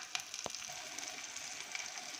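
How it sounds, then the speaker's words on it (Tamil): Chopped onions frying in hot oil for a home-cooked pea curry, giving a steady, soft sizzling hiss with small crackles throughout, fairly faint and with no one talking. "வெங்காயம் நல்லா வதங்கிடுச்சுங்க."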